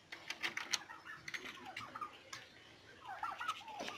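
Turkeys on a farm in Rajshahi, kept in separate sheds for the breeding season, gobbling in faint rapid bursts at a distance over a steady background hum.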